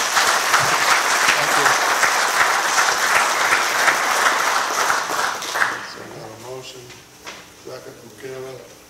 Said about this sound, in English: I would encourage uh, the audience to give our GMD board a round of applause.